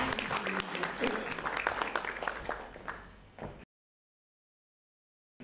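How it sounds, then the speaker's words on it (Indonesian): A church congregation bursts into applause, dense lively clapping with a few cheers that fades out after a few seconds, followed by silence. "Mari kita beri tepuk tangan."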